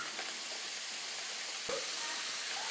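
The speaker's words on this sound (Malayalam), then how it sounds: "ഒരു 3 സവാള ചെറുതായിട്ട് കൊത്തി അരിഞ്ഞാൽ നമുക്ക് അതിലോട്ട് ഇട്ട് കൊടുക്കാം" Three chopped onions, with garlic and green chillies, fry in a pan over a raised flame, giving a steady close broadband sizzle and hiss with no pause and a single brief knock partway through.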